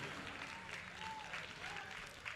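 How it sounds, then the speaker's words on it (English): A crowd at a cross gilt pig show applauds the gate help and volunteers, a faint, continuous patter of clapping from an indoor audience with a faint voice briefly audible beneath it. "Let's give all the gate help in the back, all the volunteers, a big round of applause."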